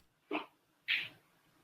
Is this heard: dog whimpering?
yes